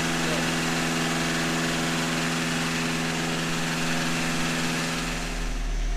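A warm Toyota MR2 Mk1 AW11 engine idles close by with a steady, even drone and faint tapping, while a voice talks over it.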